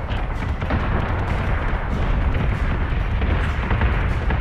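Warship guns fire on a target in Battlestar Galactica Deadlock, a loud, continuous rumble of overlapping blasts and booms that runs for several seconds without a break.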